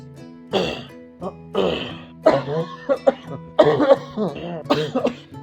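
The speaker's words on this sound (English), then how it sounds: "I'm still coughing a lot." A person coughs repeatedly in several harsh bursts spaced across the clip, close and fairly loud, with throat-clearing sounds mixed in.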